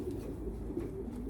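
Racing pigeons coo softly in a low, steady murmur, close by and continuous, with no talking over it.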